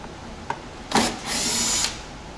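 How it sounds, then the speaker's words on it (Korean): Power tool whirring in short bursts on a Volvo XC90 while two bolts are loosened, a brief blip, then a sharp spin and a longer steady whine, close and loud. "렌치 25mm로 볼트 두 개를 풀어 주시고요"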